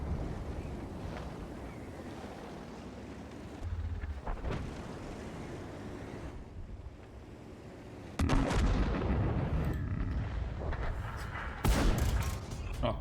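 Tank cannon shots from an autoloader tank in World of Tanks Frontline, heard as sharp broadband blasts: a loud burst around the middle and another near the end, over constant wind-like battlefield rumble.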